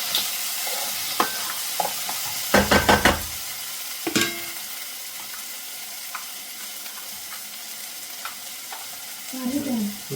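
Tomatoes fry in a pan for a Kerala-style chicken liver curry with a steady soft sizzle, broken by a few sharp scrapes and taps of a spoon stirring, up close with no talking.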